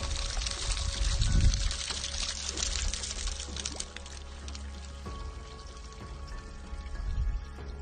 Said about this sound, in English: by swiftly running your finger along the edge, you can influence the flow of the water